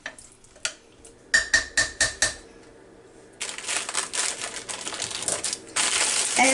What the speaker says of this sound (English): make sure you smooth out your apples a little bit, not have them all right there in the center